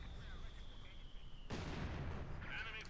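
Mortar fire lands in Company of Heroes 2 on the Kharkov map, where a dull rumbling burst hits halfway through and swells into sustained battlefield noise over a faint high tone.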